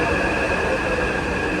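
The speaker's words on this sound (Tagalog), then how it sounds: "Ito na po agad yung tren." A metro train pulls into Songshan station in Taipei, a steady loud rumble of wheels and motor filling the platform, continuous and close, with faint voices underneath.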